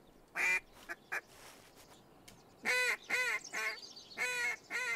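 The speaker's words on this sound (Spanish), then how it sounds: "Reclamo corto para ganso y para pato." Short duck and goose calls blown on a hunting call in the Hunting Simulator 2 video game, a few brief quacks early on, then a louder run of honking calls, close and clear with no talk.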